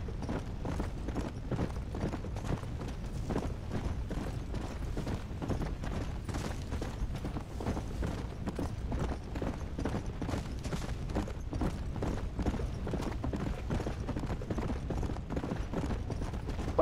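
Horse hooves gallop in Red Dead Redemption: Undead Nightmare, a fast, steady clip-clop rhythm that runs unbroken and close for the whole stretch without pause.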